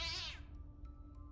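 A single cat meow from an RPG Maker MZ video game, loud and close with a rising-falling tone lasting about a third of a second, followed by quiet low background with faint clicks.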